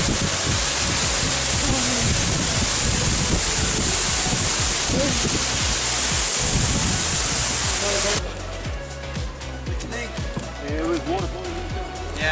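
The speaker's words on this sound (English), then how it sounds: "the best thing is the waterfall" Waterfall in the Victorian high country rushing in a constant loud broadband roar, with people talking over it; the roar drops to a lower level partway through as the talk continues.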